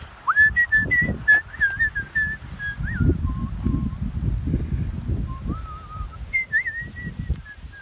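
A person whistles a tune of rising and gliding notes outdoors at Sleepy Hollow Cemetery, with steady rustling and footstep-like noise underneath; clear and close, no talking.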